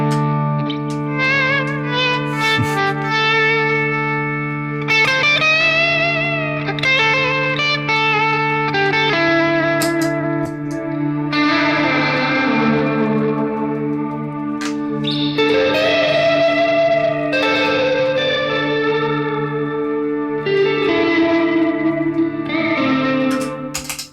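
An electric guitar through a reverb and a freeze pedal plays chords and picked notes drenched in heavy reverb, with sustained droning tones lingering underneath, loud and continuous without any voices.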